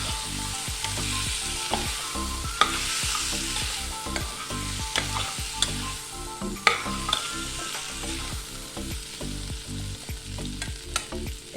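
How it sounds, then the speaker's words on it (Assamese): Spices being stirred into a taro root curry in a hot pan, with steady sizzling and frying and repeated scraping stir strokes at close range. "এইখিনি মই ভালদৰে মিক্স কৰি ল'ম।"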